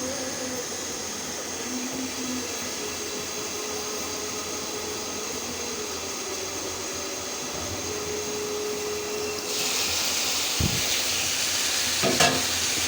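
Food being stirred in a pan while it cooks, a steady close hiss of frying under soft scraping, with a louder burst of sizzle near the end and a couple of sharp knocks.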